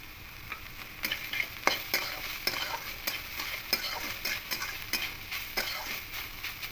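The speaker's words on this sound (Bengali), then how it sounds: "দিয়ে খুব ভালো করে মিশিয়ে নেব" Banana stem fry with a little sugar being stirred in a pan: repeated spatula scrapes and taps at an irregular rhythm over a soft continuous sizzle, close and fairly quiet.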